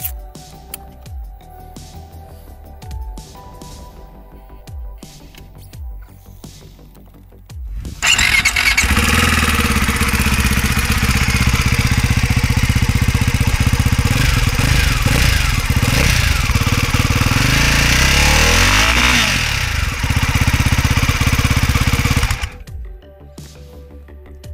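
A Ducati Hypermotard 698 Mono RVE single-cylinder motorcycle engine starts up and idles loudly for about fifteen seconds with an uneven thumping rumble, then cuts off abruptly.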